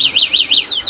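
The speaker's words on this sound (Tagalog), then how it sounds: "Basta naka-activate yung alarm" An electronic alarm wails in a rising and falling siren pattern, loud and close, cycling several times quickly.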